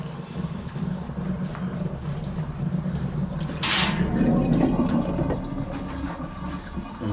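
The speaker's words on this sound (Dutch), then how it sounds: "nu ga ik het water laten weglopen." Water draining away from a household basin, a continuous low gurgling wash with a short bright rushing burst partway through, then a slightly louder steady flow.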